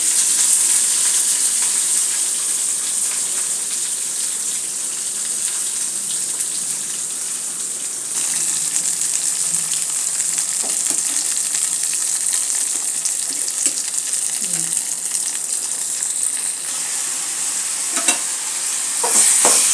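Onions fry and get stirred in a pan of oil with cumin for a tomato chutney. A steady, close sizzle runs throughout, with scraping stirs and small pops and no voices.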